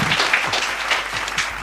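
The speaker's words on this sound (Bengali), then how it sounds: "একটি জোরে হাততালি।" Audience applause at a Bengali stage game show, a dense, steady patter of many hands clapping throughout, fairly loud, with no voices over it.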